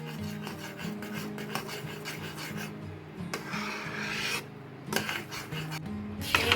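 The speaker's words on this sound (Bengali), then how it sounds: "এইভাবে ঘন ঘন নাড়াতে হবে" Semolina mango halwa being stirred in a pan, a steady rasping scrape of spoon against the pan bottom repeating close up over low background hum, with no talking.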